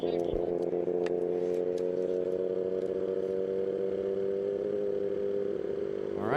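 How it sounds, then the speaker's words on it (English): A 650cc partially streamlined vintage gas motorcycle engine drones steadily and loudly at a constant pitch, running rich and slightly fat, on the Bonneville salt flats during a record run, with a brief rising note at the end. "Alp's bike is sounding a little fat"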